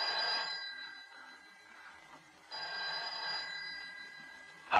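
A telephone rings in a tense 1969 Italian crime drama, its bell sounding in bursts with a pause between rings, fairly close and clear with no talk over it.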